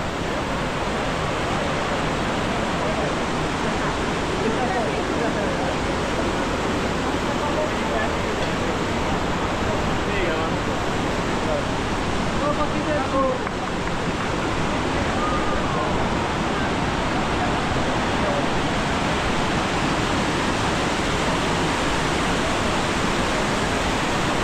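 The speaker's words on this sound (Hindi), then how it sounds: "वाटरफॉल है जिसके वजह से हम आए।" Waterfall in the Atlas Mountains of Morocco, a constant loud broadband rush of falling water that stays steady from start to finish, close by and alone, with only faint hints of other sounds beneath it.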